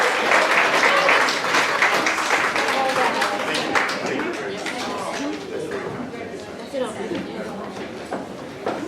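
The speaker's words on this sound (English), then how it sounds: "round of applause" Spectators at a ballroom dance presentation applaud a performer after a waltz, foxtrot and quickstep routine, the clapping strong at first and tapering while voices talk and murmur over it.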